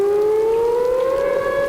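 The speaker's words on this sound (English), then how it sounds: "The sound of the siren as the downpour continued here at Broadcast Park" A civil defense siren wails at Broadcast Park during a downpour, one loud, steady tone that rises slowly in pitch and holds throughout.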